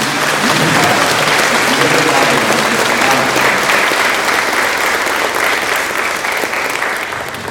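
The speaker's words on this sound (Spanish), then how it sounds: "Un aplauso a nuestro patrón, Santo Santiago." Loud, dense crowd applause at a Santo Santiago patron saint festival with the Danza de los Moros, a steady wash of clapping sustained throughout and easing slightly at the end.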